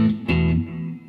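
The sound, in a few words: electric guitar with a little delay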